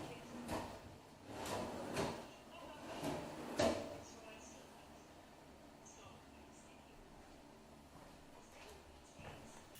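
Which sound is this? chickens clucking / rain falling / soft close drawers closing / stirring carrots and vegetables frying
soft close drawers closing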